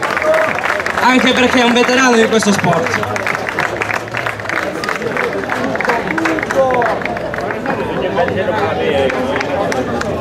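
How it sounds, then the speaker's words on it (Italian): A crowd at a hill-climb race gives sustained, dense applause and cheering for class winner Giuseppe Forte, mixed with loud chatter and an announcer speaking over it. "Un applauso a Forte glielo facciamo"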